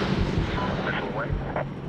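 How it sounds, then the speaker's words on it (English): A missile explodes with a deep, booming blast in the PC game Medal of Honor (2010), with rumbling battle noise behind it and voices talking over the top. "Missile away."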